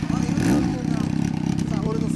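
A Honda CB400FOUR 398cc NC36 four-cylinder motorcycle with a black collector exhaust idling nearby: a steady, rapid pulsing engine throb with a brief blip of revs, under people talking.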